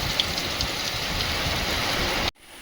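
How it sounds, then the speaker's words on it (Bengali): Steady, dense hiss of heavy rain pouring down, continuous and loud, cutting off abruptly near the end. "বৃষ্টিটা বেশ ভালোই জোরে হচ্ছে"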